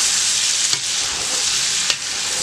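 Onions frying with smoked boucané sausages in a pot are stirred, giving a steady bright sizzle throughout with two sharp scraping clinks of the spoon against the pot.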